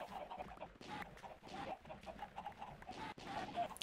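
Many Minecraft video game chickens cluck densely together as a crowd, a continuous overlapping chatter of short clucks, fairly faint with no talk.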